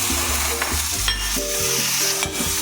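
Fried chicken is stirred in a sizzling pan with black pepper, cubes and bay leaf, a close, constant frying hiss broken by repeated spatula scrapes and knocks, with no voices.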